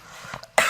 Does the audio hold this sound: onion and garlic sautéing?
no